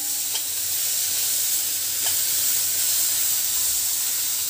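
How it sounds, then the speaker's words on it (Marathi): Onion and masala sautéing in a pan give a continuous bright sizzle and hiss, steady throughout, with faint stirring scrapes. "ह्याला पण आपण 1 ते 2 मिनिट व्यवस्थित परतून घ्यायचं आहे"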